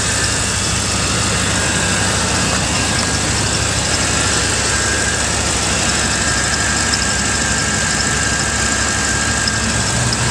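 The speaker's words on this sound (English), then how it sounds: "2006 Ford F-150 Lariat. Running as I speak." A lifted 2006 Ford F-150 Lariat 4x4 crew cab pickup idles steadily, a loud, even engine rumble that continues without a break and with no voices.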